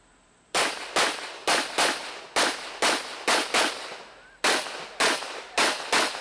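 A rapid string of about eleven sharp, loud pistol shots fires at a USPSA match, the reports coming in quick irregular pairs and singles, close to the microphone with no talk over them.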